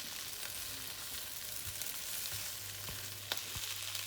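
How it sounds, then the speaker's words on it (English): Cauliflower curry with chopped green chillies stirring in a pan, a faint soft sizzle with a low hum and a few light scrapes of the spoon, no one talking. "Give all of that a good stir as well."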